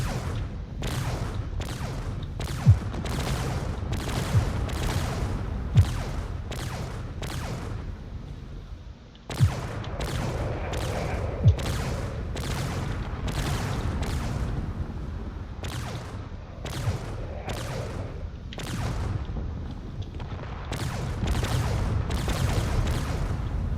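Lasers and cannons fire in a space battle video game: rapid volleys of sharp blasts and thumps come in bursts over a deep rumbling bed, pausing briefly before resuming just as heavily.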